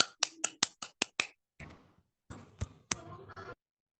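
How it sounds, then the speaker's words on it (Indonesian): Classroom applause for a student comes as a short, sharp run of about six evenly spaced claps, followed by a few looser, scattered claps and a soft rustle before fading to silence. "Kita berikan aplaus kepada teman kita."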